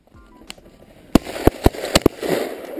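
Several sharp shotgun blasts ring out during a snowy bird hunt, five distinct cracks at irregular intervals, close and loud over a quiet outdoor background.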